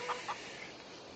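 Chickens in the video game Farming Simulator 22 give two short, quiet clucks early on, then a soft steady ambient hum continues alone.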